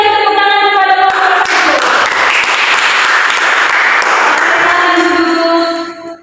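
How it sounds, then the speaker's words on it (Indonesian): A classroom of students breaks into sustained applause for a group that has just presented, dense clapping filling the room for several seconds before fading out at the end. "Mari kita berikan tepuk tangan kepada kelompok"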